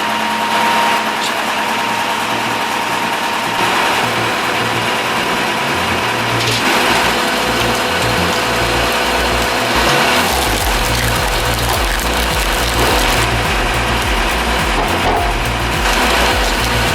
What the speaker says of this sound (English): Think splitting a 12-inch by 20-inch log is hard work? To this 50 HP splitter, it's just a warm-up routine.